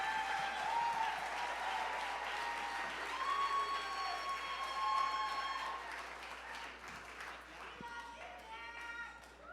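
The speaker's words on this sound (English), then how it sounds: "Make some noise for James Rennes." Audience at the ATWL 2016 event applauding and cheering for a performer: sustained, dense clapping with whoops and a few shouted voices, fairly distant and even throughout, thinning slightly toward the end.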